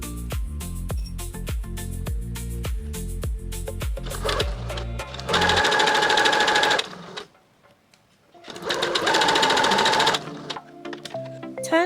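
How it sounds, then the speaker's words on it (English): A sewing machine stitches down the long side of a folded fabric bow for a tote bag. Bursts of rapid, even needle clatter run loud and close, broken by a brief pause. "With the bow middle, fold it in half and sew down the longest side."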